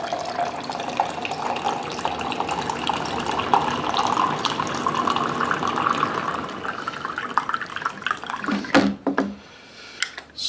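Water runs steadily from a kitchen tap into a container, a continuous splashing flow that cuts off near the end with a few clinks.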